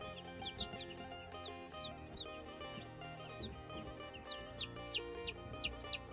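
Chicks peep in high, rapid chirps while hens cluck softly in a small backyard flock, the peeping growing louder and busier toward the end; no voices.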